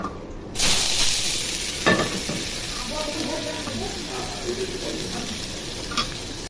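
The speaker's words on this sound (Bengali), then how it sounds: "তেল গরম হয়ে গেছে এবং এখন পেঁয়াজ ঢেলে দিব।" Onions hit hot oil for a rohu fish curry, a sudden loud burst of sizzling that then settles into a steady close crackle with a few stirring scrapes.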